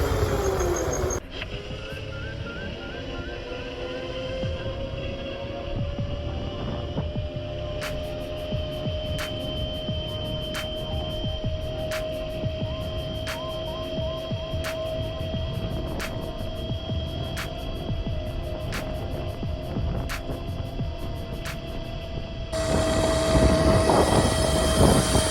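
Razor MX650 electric dirt bike fitted with an overvolting kit, its motor whine rising steadily in pitch as it accelerates over about twenty seconds, loud and close, with a rhythmic ticking and no talking.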